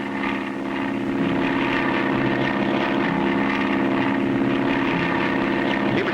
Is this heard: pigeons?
no